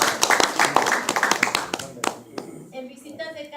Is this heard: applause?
yes